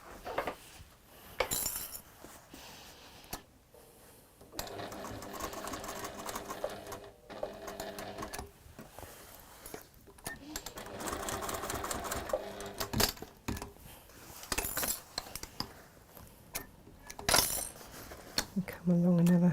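A sewing machine runs in several stretches of top stitching on fabric, a quiet, busy rattle broken by pauses, clicks and handling sounds, with a person talking at times.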